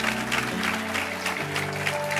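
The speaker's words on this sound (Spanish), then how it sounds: "Alguien dele un aplauso al Señor" A church congregation claps for the Lord during a sermon, a brief burst of crowd applause with mixed clapping under a sustained musical tone.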